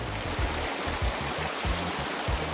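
Fast-moving floodwater rushing through a spillway makes a loud, continuous broadband roar, with low rumbling gurgles underneath and no talking.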